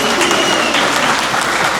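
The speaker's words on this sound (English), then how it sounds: "Let's give them a round of applause." Dense, continuous audience applause fills a college graduation ceremony hall, loud and sustained with no pauses.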